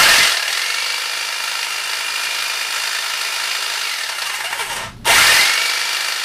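A repaired Black & Decker electric hedge trimmer runs steadily with a loud, close buzz, cuts out briefly near the end and then starts again. No one speaks.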